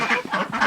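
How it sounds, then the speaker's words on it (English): French Toulouse geese honk in three quick, loud nasal calls close by on a pastured poultry farm, with no one talking. "over here we've got some French Toulouse geese"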